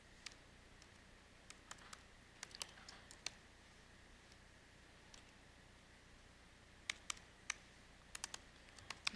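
Scattered keystrokes tap on a computer keyboard, quiet and close, in short irregular bursts separated by pauses.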